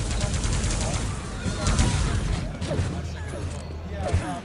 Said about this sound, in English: Now let's see how Toxic does with this railgun in the open.